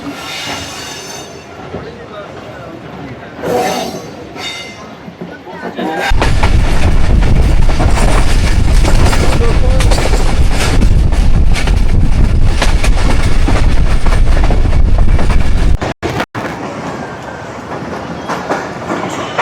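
The Pak Business Express rolls out of Hyderabad with a loud, close, continuous rumble of wheels on track. Squeals and clatter run under a quieter stretch at the start, and a brief gap falls near the end.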